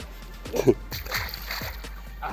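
A pike is released into water at night and lands with a single short splash, followed by faint sloshing, with voices talking nearby.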